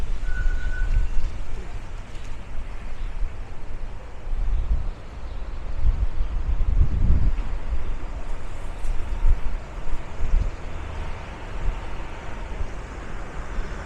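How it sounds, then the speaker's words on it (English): Steady, heavy wind buffets the microphone with low rumbling gusts throughout on 21st Avenue in Bensonhurst, Brooklyn, a faint traffic hum blending into the roar. "As you can see, it's still windy."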